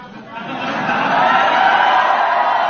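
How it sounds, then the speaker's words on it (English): A press crowd cheers in a played-back recording, a broad roar of many voices that swells over the first half-second and then holds loud and steady. "That's the press cheering."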